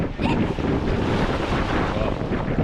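Steady roaring wind buffets the microphone over surging Gulf of Mexico waves at Gulf Shores, Alabama, a continuous loud wash of noise with no pauses.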